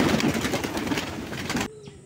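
Pigeons leave their coop one by one under loud, dense rustling and flapping wings that stop abruptly near the end, leaving faint quiet background.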